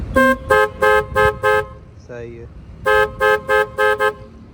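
Horn of a Daihatsu Cuore, just tightened on its mount, sounds in two bursts of five loud, close toots each, with someone talking briefly in the gap between them.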